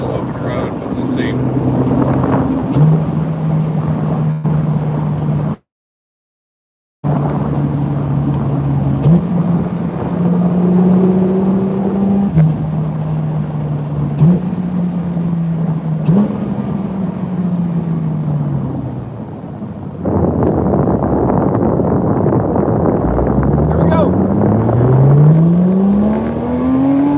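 A Porsche GT3 RS engine drones and rises through gears with audible shifts, then revs hard and climbs in pitch, loud and close with wind noise.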